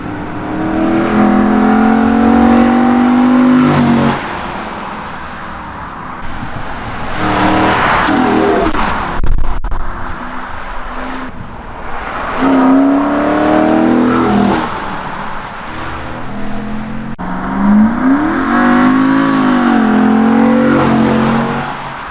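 A 2001 Lexus GS 430 V8 with a short ram intake revs repeatedly, each loud rising throttle blip followed by a drop back to idle, with brief pauses between bursts.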